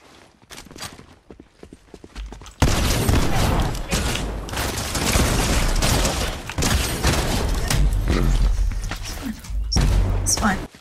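Gunfire in an end-game video game match: a dense, loud, continuous stretch of rapid shots and thuds starts a couple of seconds in and runs almost to the end, with no one talking.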